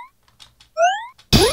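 A wine glass sound effect, pitch-shifted with an upward sweep: a few soft taps, then a clear ringing tone gliding upward, followed by a short burst of noise.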